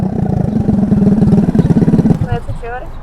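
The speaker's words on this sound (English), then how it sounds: "It almost sounds like I have no exhaust." A Honda Ruckus scooter's GY6 engine with an open header pipe putters loudly with a rapid, raw popping exhaust note, close by, then tapers off as a voice briefly speaks.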